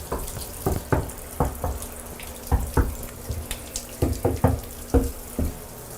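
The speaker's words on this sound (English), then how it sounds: "We'll typically add, if we have a drain stopper, 2-3 inches of water in there just to check we don't have a leak." Water runs into a bathtub during a home inspection, a steady splashing stream punctuated by irregular louder gurgles and plops, heard close up with no one speaking.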